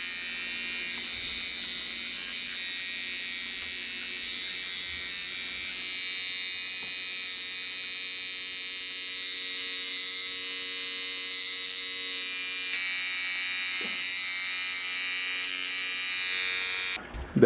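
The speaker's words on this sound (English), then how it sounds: "So I'm using an electric toothbrush to help pollinate these flowers." An electric toothbrush buzzes steadily against tomato flower clusters in an indoor hydroponic garden, a close, constant electric drone held with no break for the whole stretch, no voices over it.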